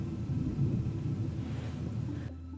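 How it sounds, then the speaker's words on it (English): Low thunder rumbles on through a stormy afternoon indoors, a steady, muffled roll that fills the room and then cuts off abruptly near the end. "Do you hear it thundering?"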